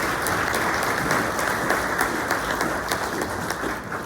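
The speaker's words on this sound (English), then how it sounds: "Folks, let's give them a big round of applause." At a candidates forum, an audience gives a steady round of applause for the candidates, dense clapping holding evenly for several seconds before tapering slightly at the end.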